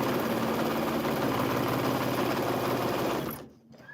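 A sewing machine back tacking on a quilt at a seam intersection, a fast, steady mechanical stitching hum that runs continuously before stopping abruptly near the end.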